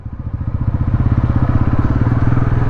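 A Bajaj NS400 motorcycle being ridden, its engine thrumming loud and close with a rapid pulsing exhaust beat that builds steadily in volume.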